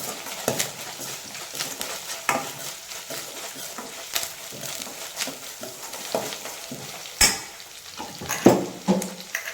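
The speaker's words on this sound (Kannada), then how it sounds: "ಲೋ ಫ್ಲೇಮಾಗಿಟ್ಟು ಚೆನ್ನಾಗಿ ಫ್ರೈ ಮಾಡ್ಕೊಳ್ಳಿ" Egg gravy sizzles in a pan over a low flame while a spoon stirs and scrapes the mixture. The frying hiss stays steady beneath irregular clinks and scrapes, with a few louder strikes against the pan.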